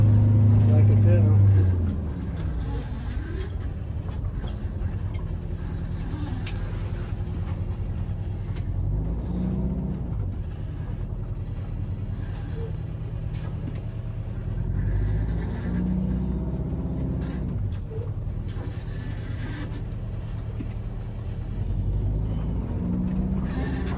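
Old engine bought secondhand, restarted after sitting unused for 20 years, running with a steady loud rumbling idle throughout, people talking over it near the engine.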